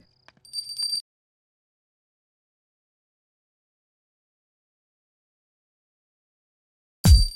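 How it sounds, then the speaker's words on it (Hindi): A hand bell rings briefly at the start, then a long silence before another sharp ring or bang cuts in at the very end. "घंटी की आवाज सुनाई दी ना?"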